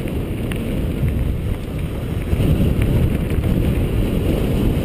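Steady headwind on the open Fos plateau near Fos-sur-Mer, roaring and buffeting against the microphone in a continuous low rumble with no voices.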